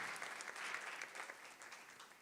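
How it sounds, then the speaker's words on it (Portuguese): A church congregation claps together during a Sunday sermon, giving a dense, steady wash of moderately loud applause with no distinct single claps and faint voices in the mix. "Vamos aplaudir a Deus pela vida dos pais?"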